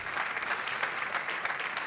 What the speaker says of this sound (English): please give a big applause to all the speakers for the session